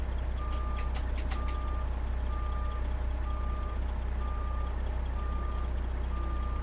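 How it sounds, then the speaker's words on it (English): A truck's reverse beeper in American Truck Simulator sounds steady repeating tones at an even pace across the whole stretch, over a low engine rumble, with a few sharp clanks near the start. "get the reverse beeper off"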